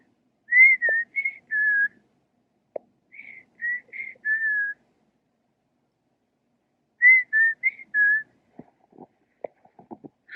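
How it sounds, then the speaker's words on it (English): A bird sings three short bursts of clear, whistled notes with pauses between them, then a few faint clicks and rustles follow. "I'm not sure what kind of bird that is, but that's such a pretty noise."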